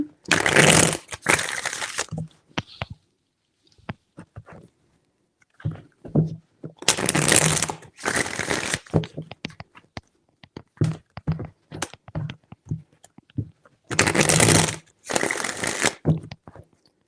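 Tarot cards being shuffled in three separate bursts of riffling, each about two seconds long and close by, with quieter handling taps between them.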